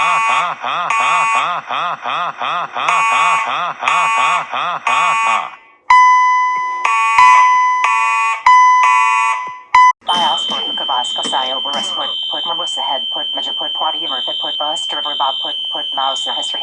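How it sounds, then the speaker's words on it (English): Fire alarm sounding inside a Chuck E. Cheese's restaurant: a loud repeating electronic alarm tone that switches patterns partway through, then turns into a steady high beeping alarm with voices underneath. "Oh no, the fire alarm went off."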